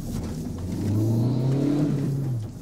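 An unregistered motorcycle engine revving, a mid-pitched engine note rising then falling back, fairly close and alone.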